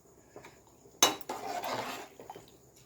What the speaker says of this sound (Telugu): మంచి కలిపి మూతను పెట్టుకోవాలి